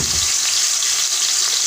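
Fresh tomatoes and yellow onions fry in hot oil, giving a loud, steady sizzle with no break from start to finish and nobody talking.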